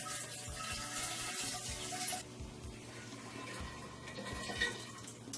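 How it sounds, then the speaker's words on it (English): Grape juice pours steadily into a container for homemade wine, a continuous rushing splash that fills the first two seconds loudly, then settles into a softer, steady trickle. "all we need to do is take our grape juice, add it to our container"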